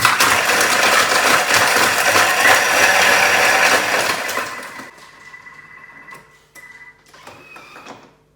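A blender whips a Milo milkshake loudly for several seconds with a dense whirring roar, then winds down and stops, leaving softer clicks and clatter.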